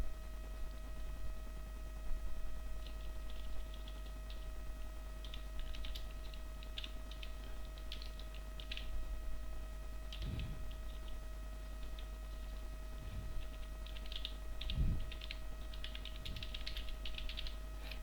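Computer keys are tapped in sparse, uneven bursts over a steady electrical hum, faint and close, with a few heavier clicks standing out.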